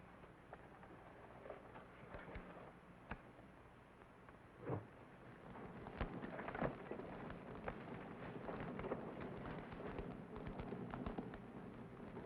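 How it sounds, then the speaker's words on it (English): A log cabin burns with sharp crackles and pops scattered over a low, steady fire roar. The crackling grows denser and busier in the second half. "the cabin's on fire."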